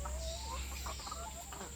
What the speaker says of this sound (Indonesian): ayam petelur saya yang ada di kandang ini.